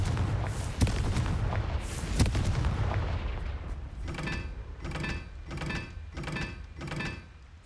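The Confringo fire spell explodes in the video game Hogwarts Legacy, giving heavy booming blasts over dense rumbling noise, then a run of evenly spaced pulsing bursts.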